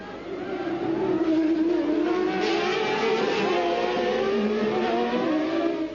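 Formula 1 cars from 1995 launch away at a race start, including both Williams, their engines a loud, high-pitched whine that climbs steadily in pitch and holds without a break.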